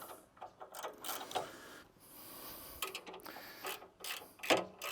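A 13mm spanner tightens the cassette bolt on a Cobra Fortis, giving close, quiet metallic ratcheting clicks in short uneven bursts with brief pauses between.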